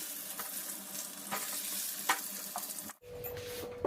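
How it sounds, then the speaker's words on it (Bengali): Brinjal slices fry in a pan with a steady, close sizzle and occasional stirring scrapes; the sizzle cuts off abruptly near the end, leaving quieter background. "এদিকে বেগুন ভাজতে দেবো"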